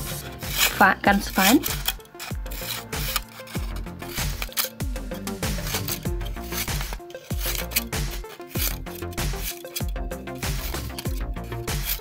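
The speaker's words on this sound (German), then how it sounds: "das Stückchen Aluminiumfolie schneide ich einfach hier komplett immer so ein" Scissors cutting a small piece of aluminium foil for wrapping cocktail straws, a run of close crisp snips and crinkling clinks in irregular rhythm, with a person speaking briefly over it.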